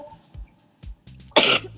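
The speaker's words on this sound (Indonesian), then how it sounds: "iya sorry ya batuk" A single sharp cough from a woman during a chat-show interview, loud and close, following a few quiet breathy vocal sounds.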